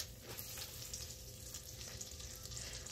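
Meat sears in a frying pan with a steady, dense sizzle that holds at an even level for a few seconds, close by and without talk.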